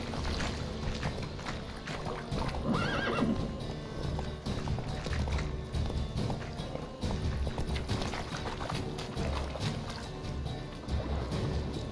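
Roach, a horse in The Witcher 3, gallops with a steady clip-clop of hooves under a dense, busy game soundscape. A brief brighter burst early on may be a neigh, and the whole scene plays at moderate loudness without speech.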